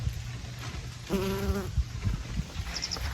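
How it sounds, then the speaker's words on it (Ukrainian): A bee's buzz rises for about half a second, close by among flowering branches, against a quiet outdoor background with soft rustling. "Бджоли працюють."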